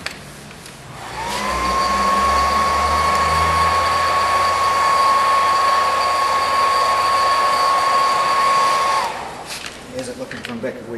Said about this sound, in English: I'm just going to use the hairdryer to dry that off now.